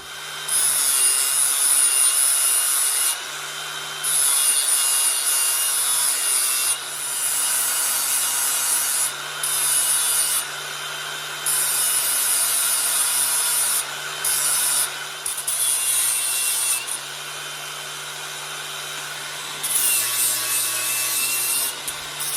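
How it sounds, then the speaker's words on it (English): A flap wheel on a grinder scours steel pieces clean for welding while a 1972 VW Super Beetle body dolly is being built, a loud high rasping whine in repeated passes of a few seconds with brief pauses between them. "I'll put the flapper wheel on, clean them up where we're going to weld them."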